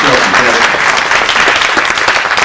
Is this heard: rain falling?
no